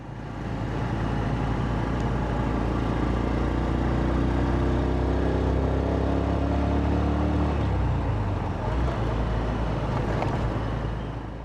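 Dense road traffic heard while riding a motorbike through Kampala: a constant loud roar of engines and tyres close by, with passing vehicles swelling and fading and a low engine drone throughout.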